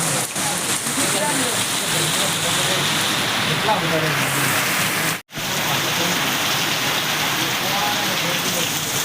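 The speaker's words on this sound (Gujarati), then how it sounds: "વરસાદ ચડ્યો છે ખતરનાક." Heavy rain pours down in a loud, dense, continuous roar close by, with one brief dropout partway through.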